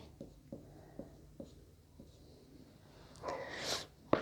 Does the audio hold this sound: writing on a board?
yes